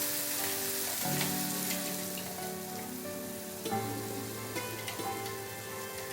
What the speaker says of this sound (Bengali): আর এটা আমি কম আঁচে কিন্তু পেঁয়াজটাকে ফ্রাই করছি।